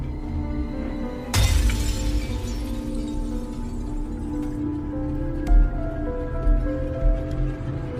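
A doll is slammed down and its head shatters with one sudden, loud crash of breaking fragments, followed by quieter scattered rattles and a low rumbling backdrop.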